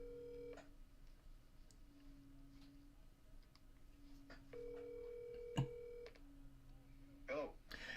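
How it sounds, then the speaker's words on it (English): A phone dials a number to call back during a live fight-night reaction show, with a series of distinct DTMF keypad tones and dial beeps in a steady sequence, under faint background talk. "So I'm going to call you back."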